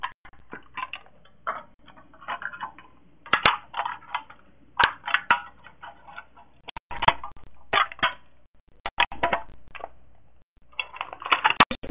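A knife cutting around the bottom circle of a homemade mini broadhead blowgun dart part, irregular bursts of close scraping and crunching with sharp clicks between short pauses, no talking.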